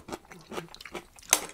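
Someone bites into and chews a crunchy vegetable from a Japanese bento box, close up, giving four rhythmic crisp crunches and then a sharper, louder snap at the end, with no talking.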